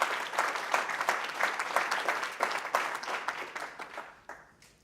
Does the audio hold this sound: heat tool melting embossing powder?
no